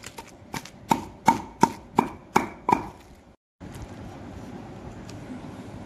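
Raw tamarind chutney is pounded in a stone mortar, with about seven loud, evenly spaced thuds close by, followed by a short silence and then a low background hiss.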